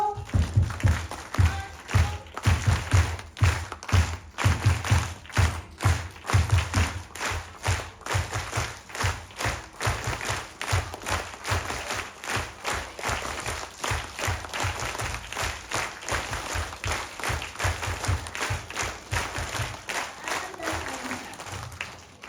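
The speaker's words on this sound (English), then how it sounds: "We do a special clap for them and it goes like this." Schoolchildren at a school programme perform a special rhythmic clap together, sharp unison claps repeating in a steady, driving pattern for a long stretch, with a low hum underneath and faint voices in places.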